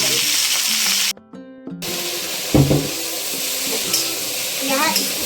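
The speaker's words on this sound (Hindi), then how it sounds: "यहाँ इसका मुंडा फ्राई कर लूंगी मैं" A fish head fries in oil in a kadhai, a steady loud sizzle with a brief gap and occasional sharper spatters, no talk over it.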